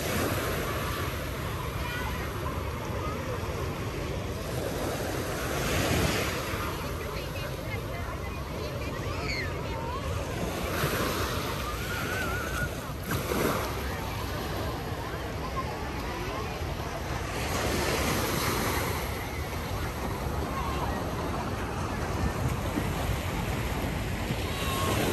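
Gentle sea waves roll in on a busy Nha Trang beach on a still, hot morning, a steady broadband wash with soft swells surging every few seconds, while faint voices and wind murmur underneath.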